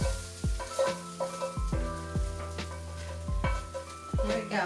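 A spoon scraping hot dogs, onions and potatoes around a hot pot, with repeated sharp scrapes and clanks over a steady sizzle, close and fairly loud with no talking.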